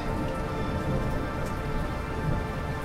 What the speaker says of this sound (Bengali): মাথার ছাদের ওপর বৃষ্টি পড়ার শব্দ শুনলাম। বুঝতে পারলাম বাইরে বৃষ্টি নেমেছে।